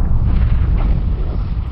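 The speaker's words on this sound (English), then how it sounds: "Oh, explosion." Heavy explosion rumble in the Star Wars: Warlords mod space battle game, a loud continuous low-frequency roar with bursts layered over it, filling the whole moment without speech.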